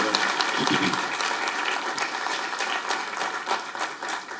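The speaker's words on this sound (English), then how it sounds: "we can give him a clap" Audience applause fills a lecture hall as a guest speaker is welcomed, a steady wash of many hands clapping at moderate loudness throughout, with a voice faintly present beneath it.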